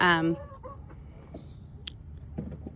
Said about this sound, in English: So this is the inside of the chicken run.